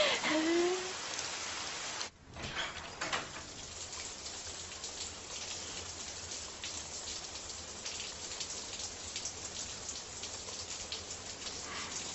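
Steady heavy rain pours down in a dense, continuous hiss with scattered drops spattering close by, while people talk faintly in the downpour.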